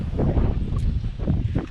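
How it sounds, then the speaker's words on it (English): Strong outdoor wind buffets the microphone, making a low, continuous rumble with gusty surges throughout. "I apologize for the wind, all this, because, you know, it's real windy out here"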